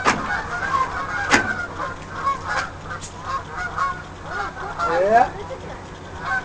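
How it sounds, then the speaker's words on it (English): Canada geese honk repeatedly at mid distance, calls overlapping in an irregular chorus, and someone speaks briefly among them. "Canadian geese."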